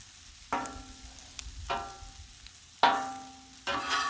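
Bacon and vegetables sizzle on a Blackstone flat-top griddle, with loud frying bursts flaring up every second or so and easing back to a steady low crackle between them.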